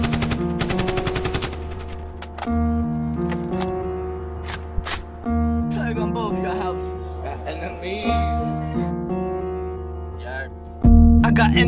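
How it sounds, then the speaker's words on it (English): Rapid gunshot sound effects crackle over a hip-hop concert track, with a burst of quick repeated shots at the start and scattered single blasts between sustained musical tones. "a gunshot means forward"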